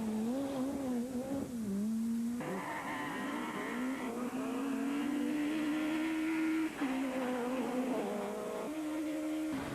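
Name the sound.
normally aspirated rally car revving at Punchestown rallysprint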